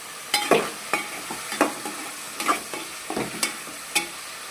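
Eggplant (brinjal) fry cooking in a pan, stirred with a spatula: a soft sizzle runs underneath as a dozen or so scraping, clattering strokes land at an uneven pace, close and fairly loud, with no voices.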